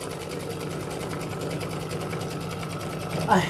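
A sewing machine tacking down quilt fabric hums continuously with a rapid, steady stitching rhythm, close and fairly loud, ending in a brief louder mechanical clunk.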